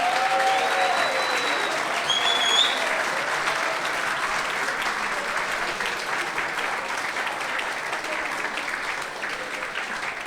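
A comedy show audience applauds a secretary named Vanderlei: dense, continuous clapping from a large crowd, loud and even for about ten seconds with a few faint whistles above it.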